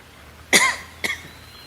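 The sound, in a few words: cough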